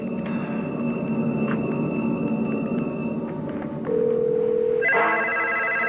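A telephone is dialed for a call: a run of electronic dial tones and beeps with a held tone near the end, close and clear over a low room hum, and no one speaking.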